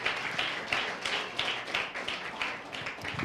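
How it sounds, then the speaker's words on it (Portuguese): A church congregation applauds during a Sunday celebration service, many hands clapping in a steady, pulsing rhythm with no voices on top. "Vamos aplaudir o Senhor pela palavra dele."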